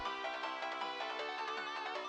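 A video game phone ringtone for an incoming call, a bright tonal melody of repeating chime-like notes that plays steadily and alone across the whole short stretch, with no voices.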